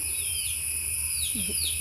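Native black country chicks peep in thin, high chirps over a steady background hum, with a faint hen's cluck near the end.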